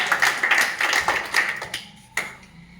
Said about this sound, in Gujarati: ઓ તાળીઓ આવી ગઈ મિત્રો